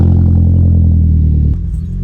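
A car engine fitted with new Bosch spark plugs runs loud and close, a steady low rumble that drops slightly in level toward the end.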